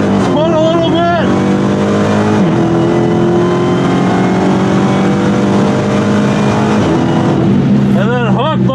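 A Jeep Trackhawk revs loudly, then launches on launch control with its tires briefly spinning, a sustained close engine roar at a drag strip that climbs sharply near the end.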